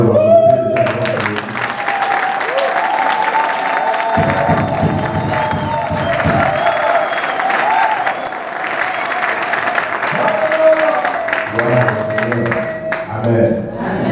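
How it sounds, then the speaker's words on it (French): Church congregation applauding during a sermon, sustained loud clapping from a large crowd that fills the room continuously, with some cheering and voices mixed in. "Applaudir, c'est ce que la majorité d'entre nous ont fait tout à l'heure"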